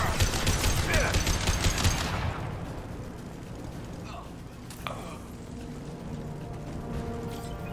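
Dense, loud rapid gunfire from Blue Suns mercenaries and Vorcha in Mass Effect 2 pours out for about two seconds, then drops to a lower background din with a single sharp crack partway through.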